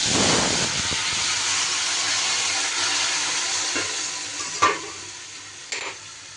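Amaranth stem curry sautéed in a pan after dry chilli and five-spice tempering, a continuous loud sizzle with a few clanks and scrapes of a spatula stirring, close and without voices.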